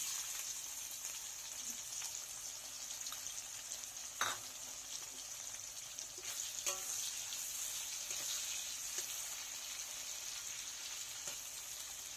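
Onions frying in hot oil in a pan, following fried surmai fish for a fish, aubergine and potato curry, give a steady, fairly quiet sizzling hiss with a few faint clinks of stirring, and no talk.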